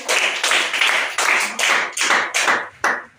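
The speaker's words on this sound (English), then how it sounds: "Please clap." Audience clapping at a talent talk, a ragged run of about eight bursts of hand claps, loud and close, each swelling then cut off, with no talk over it.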